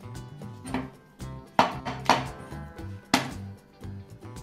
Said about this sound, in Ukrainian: Помідори теж тоненько наріжемо.